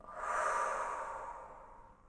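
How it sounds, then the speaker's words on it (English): A single long exhale after a held breath, a soft, breathy whoosh near the listener that swells early and slowly fades out over about two seconds, with no talking. "And then breathe out."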